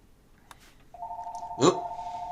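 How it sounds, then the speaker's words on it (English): A telephone rings with an incoming call, a single sustained electronic ring tone starting after a faint click, loud and near with no talk over it. "Hold on. Phone call."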